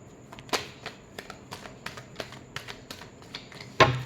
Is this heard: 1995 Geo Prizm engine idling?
no